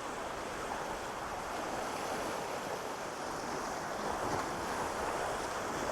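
Continuous surf from the sea at Madiguddi beach near Bailur hisses and rumbles in a steady wash, with wind buffeting the microphone, low in level and unbroken for the whole stretch.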